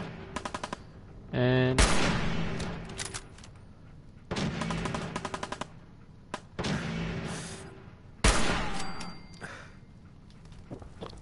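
Sniper rifle gunfire in the video game Fallout 4, sharp loud shots in separated bursts with ringing tails and rapid clicking mechanical sounds between them, with a brief spoken word.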